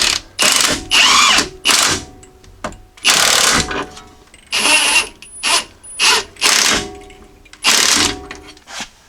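A power tool drives new nuts onto the sway bar link studs of a 2016-2021 Jeep Grand Cherokee, giving loud, close bursts of ratcheting whir, about eight short runs separated by brief pauses.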